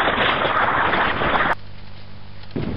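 A loud shotgun discharge in the co-op shooter TerraWars, a thick roaring blast that cuts off abruptly, then a brief low lull before another burst begins.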